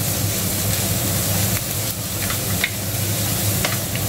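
Onions sizzle and crackle in a hot pan while frying for tofu sisig, a loud steady hiss with occasional stirring scrapes and pops, no talk.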